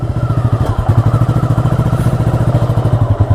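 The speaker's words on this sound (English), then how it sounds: "Kickstand is off, clutch in, first gear, throttle," A 1985 Yamaha Virago motorcycle's engine thumps loudly and close in a steady, rapid rhythmic throb as it pulls away in first gear.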